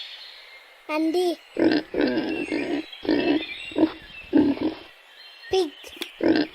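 A pig grunts in a run of short, throaty bursts spaced about half a second apart, close and fairly loud with a couple of higher squeals early on.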